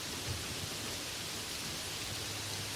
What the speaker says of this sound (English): The rain does not stop.